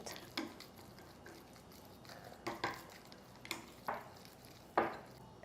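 Minced pork mixed with cornstarch in a bowl, faint soft squishing with a handful of sharper clinks of the utensil against the bowl at irregular intervals, quiet and close, with no talking.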